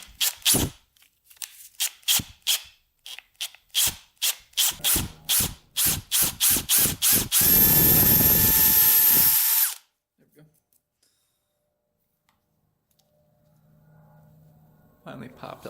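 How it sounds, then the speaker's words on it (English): A power drill bores out a stuck bolt on a Honda CR250 dirt bike, starting in short repeated bursts, then one sustained whining run of a few seconds before stopping, followed by near silence and faint low noise. "let's try to drill this thing out"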